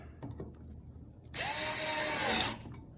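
A power screwdriver runs steadily for about a second while driving a screw into a BUD EXN series enclosure cover, its whine rising briefly, with quiet handling noises before and after.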